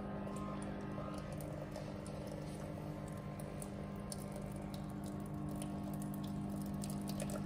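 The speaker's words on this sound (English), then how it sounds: "we'll just pump all of it out so that it's all of that residue of detergent is out and replaced with water" Water is pumped through the hydraulic circuit of a Mocom Tethys H10 machine, giving a constant humming pump drone with trickling, dripping water on top, steady and close with no talking.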